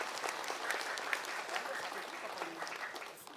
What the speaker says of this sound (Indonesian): Terima kasih Bu, boleh tepuk tangan dulu.